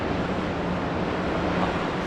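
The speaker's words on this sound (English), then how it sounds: "So windy." Steady, broadband wind rushing and buffeting the microphone on a high-rise balcony in Singapore, loud and constant throughout with no voices.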